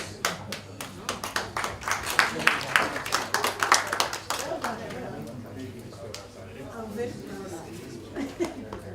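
Audience clapping at a metabolomics conference closing ceremony, a burst of brisk scattered hand claps that thins out into murmuring chatter and a few lingering claps.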